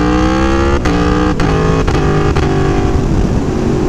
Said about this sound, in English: You just kick gears while you're accelerating and the bike will keep going.